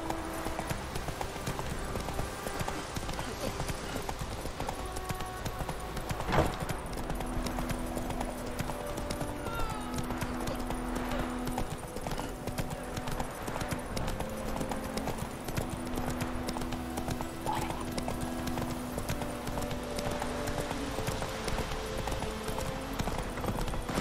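Roach the horse trotting in The Witcher 3, steady rhythmic hoof clip-clops on the ground over a continuous outdoor ambience, with a brief voice now and then.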